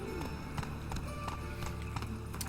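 Clip-clop of horse hooves galloping in The Witcher 3, a steady quick rhythm of close, even hoofbeats over a low continuous game soundtrack, with no talk.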